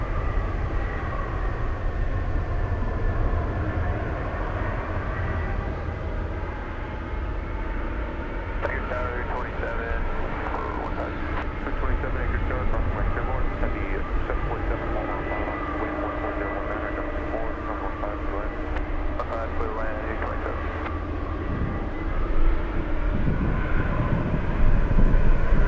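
A jet aircraft takes off on runway 7 left at Anchorage airport in gusty winds, bound for Dallas. Its engines give a steady, loud roar that builds slightly toward the end, with voices talking at times.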